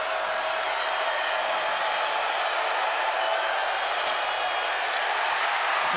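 Steady roar of a college basketball crowd at a Kentucky home game against Albany, reacting loudly after a missed front-end free throw; dense, continuous crowd noise throughout with no clear individual voices.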